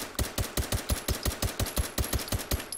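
Suppressed SIG-Sauer P226 pistol shots in the VR game H3VR fire in a rapid, even string of about fourteen muffled pops, close and dry, with no talking.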